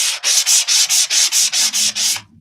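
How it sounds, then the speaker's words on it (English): A stronger sanding pad is rubbed over acrylic-painted wood to distress it, giving about ten quick, even back-and-forth scraping strokes in a steady rhythm, close and loud, with no voices. "go with a stronger sanding pad"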